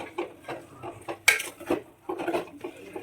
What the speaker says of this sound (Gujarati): બધું મિક્સ કરી લેશું।